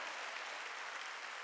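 A church congregation at a Wednesday worship service claps together in a dense, continuous burst of applause, heard from a distance and fairly faint.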